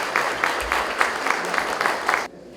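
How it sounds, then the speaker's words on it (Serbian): A crowd applauds at the opening of an exhibition of ancient Egyptian collections from Serbian museums: steady, dense clapping that swells slightly in waves, then stops abruptly, leaving near silence. "jedan veliki aplauz za sve one koji su organizovali još jednom"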